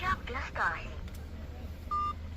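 A phone emits a single short dialing tone, clear and close, after a few spoken words near the start.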